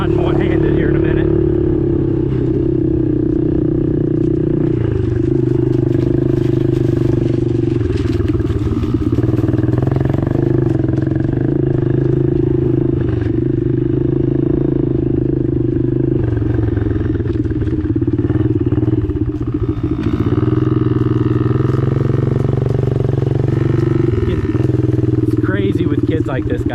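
A Yamaha PW50 kids' dirt bike engine buzzes continuously and loudly while being ridden, its pitch rising and falling with the throttle, while a person talks over it.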